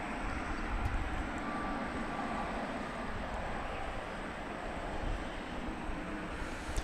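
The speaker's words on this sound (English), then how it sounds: "Taking off to Las Vegas, American Flight 884. Airbus A321." Steady broadband jet roar from an American Airbus A321 taking off at night, heard from a distance as a constant, even rumble with no voices.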